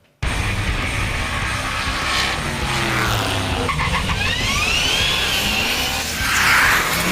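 Junkyard Plymouth Barracuda running hard at an eighth-mile drag strip, a loud, sustained engine roar with tires squealing and skidding throughout, the note climbing as the car accelerates.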